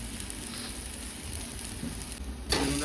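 Chilli, ginger and garlic sautéing in a hot pan for aloo paratha filling, a steady close sizzle and crackle throughout, with a brief stirring scrape near the end.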